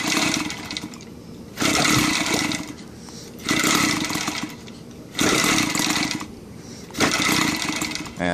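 An EVO 7-77 gasoline model aircraft engine with a propeller runs up close, alternating between loud buzzing bursts of throttle and quieter idle stretches in a repeating rhythm, with no talking.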